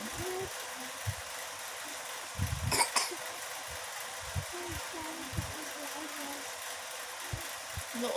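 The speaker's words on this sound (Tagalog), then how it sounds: "Inuubo siya kasi naambunan ko na." A person coughs once in a brief harsh burst at a meal of fried chicken and boneless daing bangus, over a steady background hum with voices talking around it.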